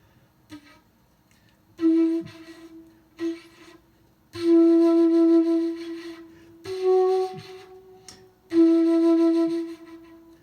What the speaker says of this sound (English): blow through the notch of the mouthpiece and sounds like this